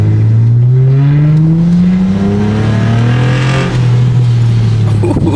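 A 2008 V6 Honda Accord fitted with a Weapon R cold air intake revs loudly and closely, its engine note climbing and falling through several swells, heard alone without talk.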